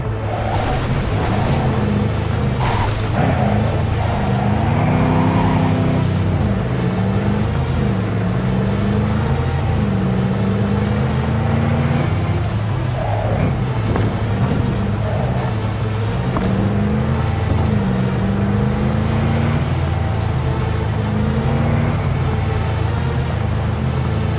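A car roars continuously in the video game Cyberpunk 2077, loud engine drone with rising and falling revs and occasional thuds and bumps, filling the whole stretch without pause.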